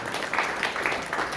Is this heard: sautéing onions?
no